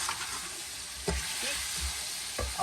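Ground coriander, turmeric and red chili stirred in an oily pan, a constant bright sizzle with a few soft spoon scrapes and knocks, close and moderately quiet, with no voices.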